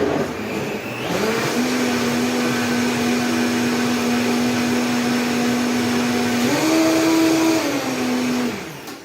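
Kitchen blender giving a chocolate coconut milkshake a quick extra whiz, a steady close motor whine that starts abruptly, rises in pitch briefly near the end, then cuts off, with no talk.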